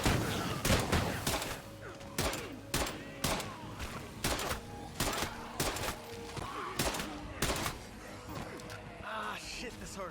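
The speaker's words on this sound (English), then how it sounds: "They're right in the middle of an explosion." Gunfire and explosions in the video game State of Decay 2 come as a loud, irregular barrage of sharp shots and heavy bursts, with voices talking over the din.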